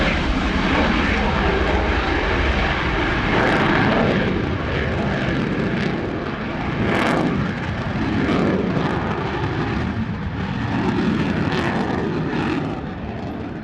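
An F-16 fighter jet performs an air display, its engine a loud, sustained roar that swells and fades in waves as it passes and turns overhead, with broad rumbling noise throughout.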